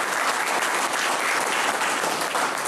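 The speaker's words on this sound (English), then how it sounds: "Can we give them a round of applause on that?" An audience at a Salinas city council meeting claps steadily, a dense and even wash of applause from many hands that fills the room without a break.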